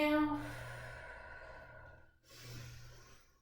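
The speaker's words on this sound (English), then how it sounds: "Whooshing breath engages the abs." A long, forceful whooshing exhale during a core exercise, close and breathy, followed after a short pause by a second softer breath out.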